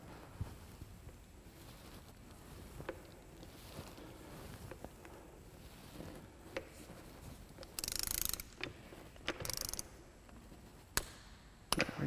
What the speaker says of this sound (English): if you do have the proper tool and a torque wrench, you're going to want to torque this to 110 foot-pounds